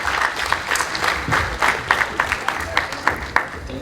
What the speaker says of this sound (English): Applause for Play Buddy.